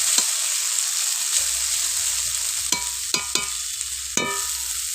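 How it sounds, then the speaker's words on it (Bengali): Jackfruit seeds fry in a pan with a steady sizzle, broken by several sharp, close scraping strokes as they are stirred. "এবার একটু নেড়ে চেড়ে নিয়ে ঢাকনা দিয়ে দেবো"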